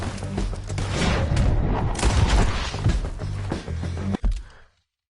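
Red Dead gunfire cracks and booms in dense, overlapping volleys, loud and close, with a final sharp shot before the sound cuts off abruptly.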